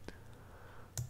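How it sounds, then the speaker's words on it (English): Mouse clicks on a software browse button: a faint single click, then a quiet pause with low room hum, followed by two sharper close clicks near the end. "we can load it by clicking on the browse button out here"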